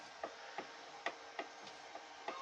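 A hand-turned front PTO shaft on a homemade tracked mini tractor gives faint, evenly spaced metallic ticks, about three per second, over a low steady background hum with no talk.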